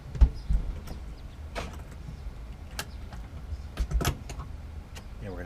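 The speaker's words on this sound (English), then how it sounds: "We'll lock the door." The door of an electric vertical smoker swings shut with a solid thud, followed moments later by a latch clicking and a second knock as it is locked.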